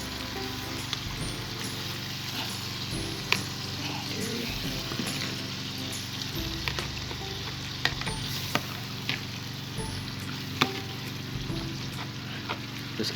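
Dried fish (ikan kayu) frying in drying spice paste for keumamah asam sunti sizzles steadily up close while a utensil scrapes and taps the pan in irregular stirring strokes.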